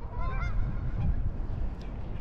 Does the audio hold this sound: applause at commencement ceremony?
no